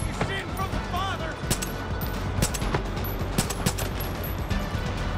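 Pistol gunfire in the video game Far Cry 5, several sharp shots spread across a few seconds over a continuous low game background, with some speech present.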